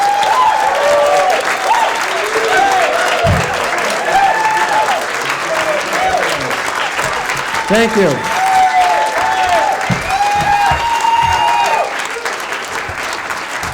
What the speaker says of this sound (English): Please, a nice round of applause for Mr.